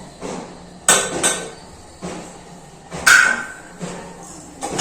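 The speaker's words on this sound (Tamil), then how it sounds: "இந்த ஸ்டேஜில் வந்து நம்ம பாசிப்பருப்பு கொஞ்சம் ஆட் பண்ணிக்கலாம்" Soaked moong dal goes into a cooking pot for Pongal, heard as a few sharp metal clanks and scrapes of a utensil against the pot with quieter shuffling between them, close by and with no talk.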